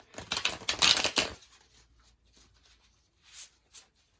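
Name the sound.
shuffling tarot cards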